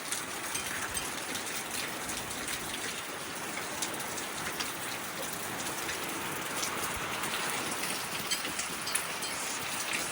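Heavy rain pours steadily during a thunderstorm on a porch, a dense, constant hiss of drops striking surfaces with gusting wind mixed in, loud and unbroken throughout with no voices.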